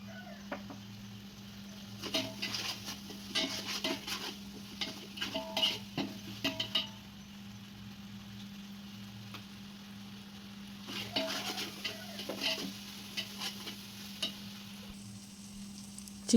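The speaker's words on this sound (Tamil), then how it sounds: "இஞ்சி பூண்டு விழுது 150 கிராம் சேர்த்துக்கணும். நல்லா வதக்கிக்கணும்" Ginger garlic paste being sautéed and stirred in a pot for chicken biryani, with a steady background sizzle and bursts of scraping and stirring that come and go, fairly close and moderately loud, with no talking.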